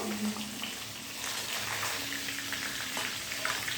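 Fish heads frying in mustard oil in a home kitchen, giving a steady, close sizzle and crackle with faint stirring or clinks, running alone without talk.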